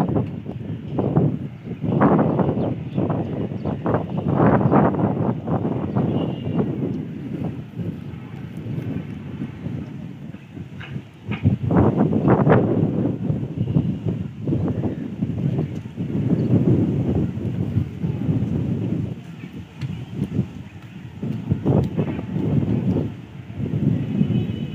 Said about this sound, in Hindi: हवा चल रही है तो धूल जो है ना ज़्यादा नज़र आ रही है